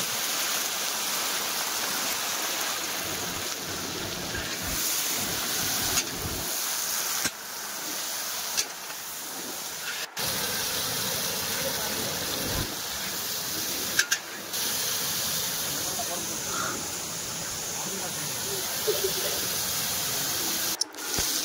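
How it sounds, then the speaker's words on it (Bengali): Pointed gourd pieces fry in hot oil in a wok, cooked outdoors by local club boys for a khichuri feast. A loud, steady sizzle hisses on continuously with a few sharp crackles. "কড়াইয়ের তেল গরম হয়ে গেছে। এখন পটলগুলো ভেজে নেবে।"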